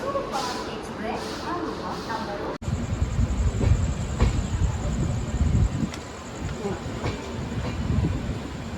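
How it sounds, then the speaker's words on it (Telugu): The Bhubaneswar–Pune Superfast Express, train 22881, rolls along the rails near Nagireddipalli. A loud, continuous onboard rumble with rhythmic wheel clatter sits under a person speaking. "మన ట్రైన్ అయితే మూవ్ అవుతుంటూ వస్తుంది"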